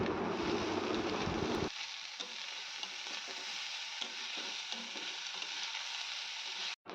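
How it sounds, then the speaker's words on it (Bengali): Thick flattened rice (chira) is stirred with vegetables in a pan. A loud sizzle comes first, then drops to a quieter simmer with soft scraping strokes close by. "এবার আমি সবজির সাথে এটা ভালোভাবে মিশিয়ে নেব"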